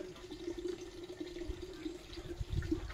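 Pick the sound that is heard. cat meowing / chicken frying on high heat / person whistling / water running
water running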